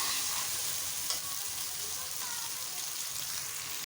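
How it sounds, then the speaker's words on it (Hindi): Black pepper chicken fries in a pan with a steady, close sizzle and crackle that runs evenly throughout. "अच्छी तरह से इसको भूनें।"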